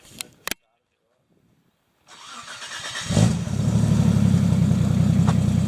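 Car engine cranking and starting with a newly fitted exhaust, a brief silence after a couple of sharp knocks, then the starter whirs, the engine catches with a loud rise and settles into a steady, rumbling idle.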